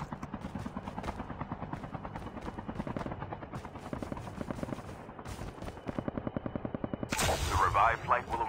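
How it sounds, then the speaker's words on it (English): An airdrop aircraft approaches in the Call of Duty Mobile video game, its rotor-like rhythmic thumping steady throughout, with bursts of gunfire and a louder swell near the end. "The airdrop is coming."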